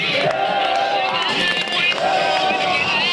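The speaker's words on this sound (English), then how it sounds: "The next day, the crowds in Tahrir Square grew even larger." A large protest crowd fills Tahrir Square in Cairo during Egypt's revolution, a dense, continuous roar of many voices with chant-like swells rising and falling throughout.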